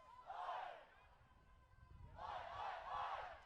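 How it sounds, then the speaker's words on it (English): American cheer squad cheering at an IQA World Cup quidditch match between USA and Australia, two bursts of crowd shouting and chanting heard at moderate distance with a quieter gap between them. "the American cheer squad are getting into it"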